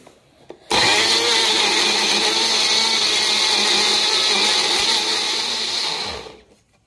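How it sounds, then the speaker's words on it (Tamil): A mixer grinder blends vegetable sauce for sandwiches. The motor starts abruptly and runs as a loud, steady whirring grind for about five seconds, then winds down to a stop. "இப்போ நான் அதை அரைக்க போகிறேன்."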